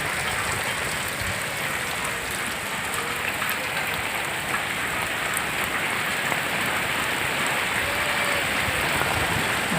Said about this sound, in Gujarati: આવો વરસાદ આવે છે આપણે